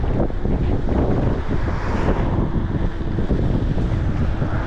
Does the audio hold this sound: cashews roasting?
no